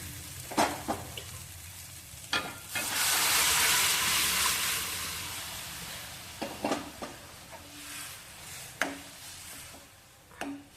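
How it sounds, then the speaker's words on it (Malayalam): Cooked dal tipped into a pan of sizzling, well-fried tomato masala for a North Indian style dal curry, giving a loud surging sizzle that swells for a few seconds, with spoon scrapes and clinks before and after. "നമുക്ക് അതിൻ്റെ അകത്തോട്ട് പരിപ്പ് ഒഴിക്കാം."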